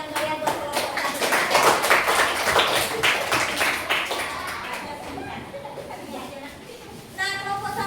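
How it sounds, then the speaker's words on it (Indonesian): Classroom applause for a student group, a dense burst of many hands clapping that fades gradually over several seconds, with a brief rise again near the end and children's voices murmuring underneath. "kita kasih tepuk tangan ya buat kelompok 1"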